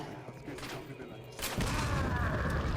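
An explosive bolt fired from a bowgun in Resident Evil 4 Separate Ways goes off halfway through as a single loud blast, followed by a sustained roaring rumble.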